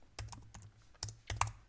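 Keys clacking on a computer keyboard while entering text in the Vim editor, a few quick bursts of close taps separated by short pauses, with no talking.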